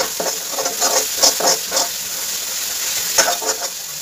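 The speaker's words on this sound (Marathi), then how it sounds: "असं जरा तेल सुटूस तर चांगलं परतून घ्यायचं." Onion-garlic masala sizzles and fries in oil for fish curry, a steady crackling hiss with brief louder spatters and stirring scrapes, close and continuous with no talk.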